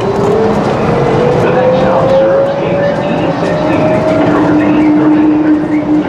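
Another DFW Airport Skylink people-mover train passes, a long rising whine and rumble carrying throughout, heard from inside a carriage with muffled voices and cabin noise.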